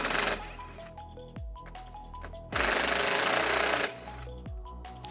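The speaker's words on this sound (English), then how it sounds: "we can use a T25 Torx socket to remove these" A power ratchet or impact driver with a T25 Torx socket whirs in short, loud bursts as Torx bolts are removed from a Tesla Model S front fascia, with brief quiet pauses between runs and no talk.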